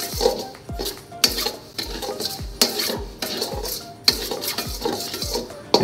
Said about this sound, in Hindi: पहले हमने कढ़ाई में सूजी को भूनना है थोड़ा।